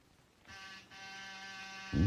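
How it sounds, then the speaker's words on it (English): A harsh electric door buzzer sounds in two bursts, a steady rasping drone with a short break, followed by the start of a deep voice. "Then I rang his buzzer."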